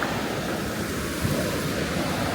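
A cold mountain stream rushes near Juta village in Georgia, a steady, close, full roar of flowing water with no breaks and no voices.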